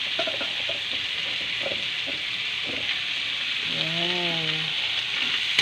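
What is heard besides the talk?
stirring bottle gourd (upo) frying in pan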